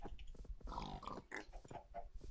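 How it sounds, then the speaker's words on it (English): Pigs in the Minecraft video game giving repeated short grunting oinks, several overlapping snorts in an irregular rhythm, fairly close and moderately loud, with no talk over them. "We got the piggies going."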